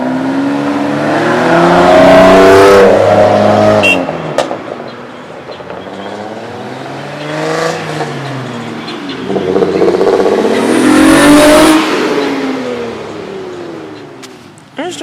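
Engine of a built purple Honda hatchback revving hard in repeated rising and falling bursts, loud and close, with brief quieter gaps between pulls.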